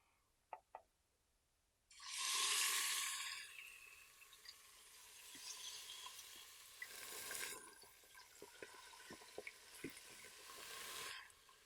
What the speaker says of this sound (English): You want to saute your pork chops until they're good and browned on each side.